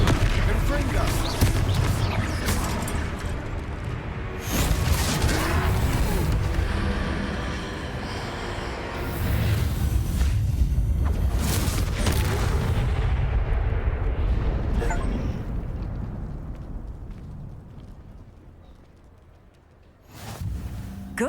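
Confringo fire-blast spell explosions in Hogwarts Legacy during a troll fight: several loud booming blasts spread over twenty seconds amid combat noise, with voices heard between them.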